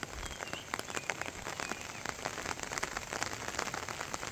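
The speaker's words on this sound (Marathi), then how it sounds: "आज अचानक एवढा पाऊस झाला म्हणजे अपेक्षा सुद्धा नव्हती का एवढा पक्का जोराचा पाऊस होईल" Heavy rain pouring onto surfaces in a village during a sudden summer storm, a dense, close patter of countless drops with no voices.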